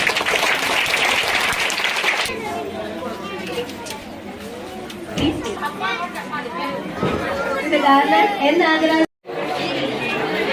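Clapping and crowd chatter at a school Sankranti celebration, a burst of applause at the start giving way to lively children's and adults' voices throughout, with a brief dropout near the end.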